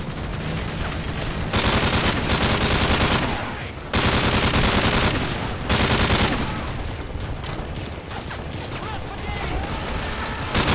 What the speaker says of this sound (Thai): ยิงอยู่ด้านหลังเลย